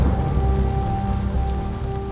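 Heavy rain pours steadily in a dense, even hiss, with a soft musical drone underneath.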